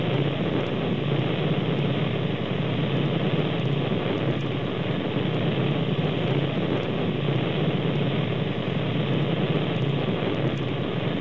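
A craft's engine in a video game during a smooth takeoff on a Mun orbit attempt, a steady, loud droning roar that holds nearly constant throughout with no talk over it.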